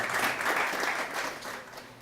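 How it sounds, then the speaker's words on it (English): Audience at a Blackmagic Design conference and expo in Kenya applauding in a steady, moderately loud wash of clapping that holds for about two seconds and eases slightly toward the end. "Round of applause again as they hand over the microphone."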